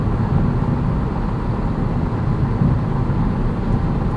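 Steady low rumble of road and tire noise fills the cabin of a 2023 Acura Integra with a manual transmission cruising along a road, a constant even drone with no voices.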